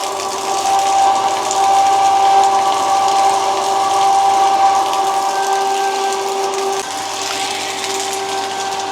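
An electric water pump hums and whirs steadily as it first starts raising water from a newly fitted house well, with a mechanical ticking and watery rushing over a constant tonal drone, close and fairly loud.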